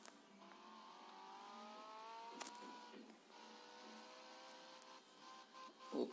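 A car driving in the mobile game Gangster Vegas, a faint engine whine rising and shifting in pitch like gentle acceleration, with a brief sharp click partway through and no speech.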